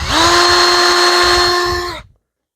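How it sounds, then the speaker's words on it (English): A power drill drilling a hole during an isinglass install on a three-season porch whines at a steady pitch for about two seconds, then spins down and stops. "we brought ourselves a real fine drill out so we could do a little hole drilling"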